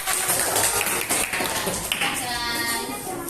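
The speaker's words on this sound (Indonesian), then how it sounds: "Terima kasih untuk kelompok 2. Tepuk tangan." Classroom of students clapping for group 2 after a presentation, a scattered, moderately loud patter of hands with uneven rhythm, mixed with background voices and room noise.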